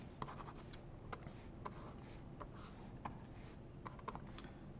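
Faint scratchy strokes and light taps of writing on a board in a university probability lecture, coming in short irregular bursts over a quiet room hum.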